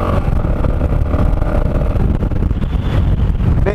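Strong wind roars and buffets the microphone continuously, a dense, steady rush with a low rumble underneath.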